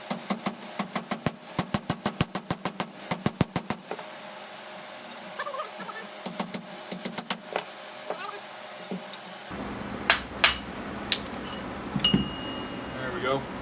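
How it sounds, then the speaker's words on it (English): A hammer drives a steel drift to knock the old handle out of a splitting maul head, giving rapid bursts of sharp metallic strikes in quick runs, close and clear, followed later by scattered heavier knocks. "We're going to try to knock it out with a drift and a hammer."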